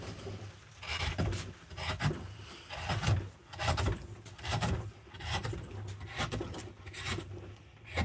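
Carving tool rasping across the inside of a wooden bowl in repeated scraping strokes, roughly one per second, close but fairly quiet with no speech.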